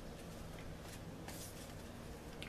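A deck of healing fairy oracle cards being shuffled by hand, a steady papery riffling and sliding that runs continuously at close range with no talk.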